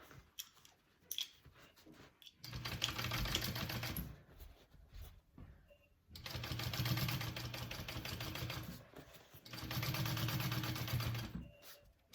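Quiet, close bursts of a sewing machine top-stitching the lining of a bucket bag, three runs of rapid stitching with brief stops and fabric rustling between them.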